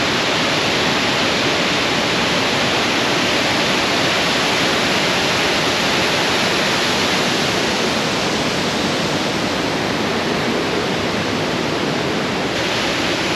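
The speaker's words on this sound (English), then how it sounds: "There's a lot more water coming over now than at lunchtime, definitely." Epupa Falls in Namibia's Kunene region roaring with a heavy afternoon flow, a loud, dense, unbroken rush of falling water close by, with no voices.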